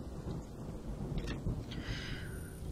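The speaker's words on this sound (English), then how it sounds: "The rain gave me a terrible sense of foreboding, and it chilled me through my clothes." Rain and thunder in the video game Home, a dense steady downpour with a low rumble of thunder rolling underneath, constant and fairly close throughout.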